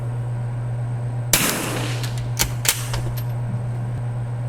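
Gunshots at an outdoor shooting range: one sharp, loud crack followed by a few lighter reports and clinks, set over a constant low electrical hum, with no talking.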